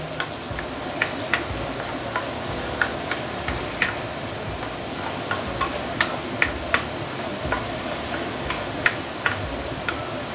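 Braised pork belly ingredients sizzle in a pan while being mixed, a steady close frying hiss with a spatula tapping and scraping the pan at irregular intervals.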